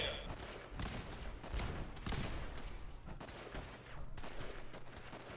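Dense gunfire between turrets and enemies in Fallout 4, rapid overlapping shots and bursts firing continuously throughout, loud and sustained.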